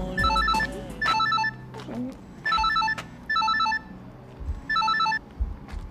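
Telephone ringing in repeated electronic bell bursts, five rings spaced about a second apart, fairly close and clear, with low background sounds between rings.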